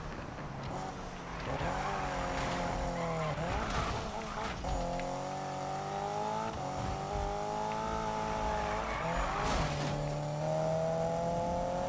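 Racing cars in the Need for Speed video game, one a Porsche, roar with rising and falling engine pitch and sharp tire skids, loud and continuous throughout, with game commentary talk over it.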